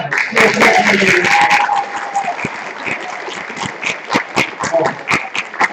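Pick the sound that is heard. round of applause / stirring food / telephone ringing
round of applause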